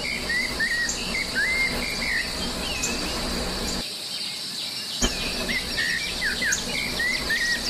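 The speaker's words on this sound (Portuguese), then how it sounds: "O sabiá laranjeira," A rufous-bellied thrush sings in a forest setting, its short whistled phrases recurring at mid distance over a steady, loud chorus of crickets and insects.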